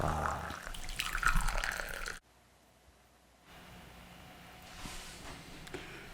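Coffee is poured into a cup in a brief, close trickle that splashes and drips for about two seconds, then cuts to near silence with faint room tone and soft scattered drips.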